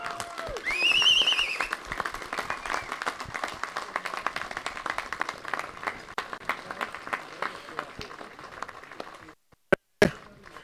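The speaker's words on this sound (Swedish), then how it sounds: "En stor applåd!" Applause for the winning team at a Swedish pike fishing championship on Åsunden, clapping and crowd noise spread over several seconds that thins out, with a voice-like tone early on and sharp knocks near the end.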